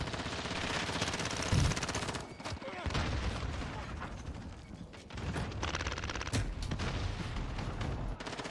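Call of Duty Modern Warfare multiplayer gunfire, dense automatic bursts and rattling mechanical weapon sounds filling most of the clip, loud and close, with brief gaps between them.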